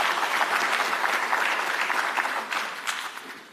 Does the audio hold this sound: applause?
yes